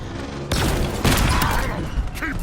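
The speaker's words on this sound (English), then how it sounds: "Grenade throw." A grenade explosion in the shooter game Halo Infinite hits as a loud, sharp blast followed by a rumbling, crackling tail that fills the short moment.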